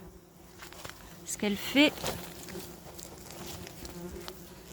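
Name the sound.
German wasps buzzing at an underground nest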